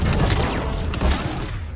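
Loud, dense burst of explosions and gunfire-like crackle from the Mass Effect 3 From Ashes DLC, with sustained rumbling booms and overlapping blasts filling the whole moment.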